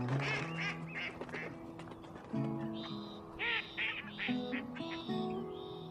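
In the Duck Dynasty video game, ducks quack repeatedly in loud, nasal bursts that overlap one another, with game music and noise underneath.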